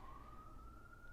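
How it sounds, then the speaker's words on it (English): A siren wails far off in the background, one steady tone drifting slowly upward across the whole second, faint and alone with no voices over it. "we have sirens in the background"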